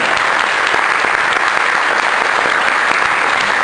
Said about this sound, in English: go ahead and clap for yourself, please.